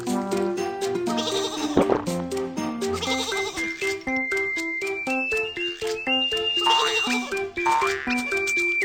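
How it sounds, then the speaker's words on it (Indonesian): Cartoon sheep flock bleating on a railway track in a children's animated train scene, the calls repeated under a loud, continuous musical soundtrack with bright melodic tones throughout. "Sekawanan domba ada di jalur."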